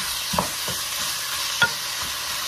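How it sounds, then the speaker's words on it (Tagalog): Chicken being sautéed in a pan with a continuous loud sizzle of hot oil and a few soft scrapes and taps of a utensil, close by. "At igigisa lang ulit natin itong ating chicken"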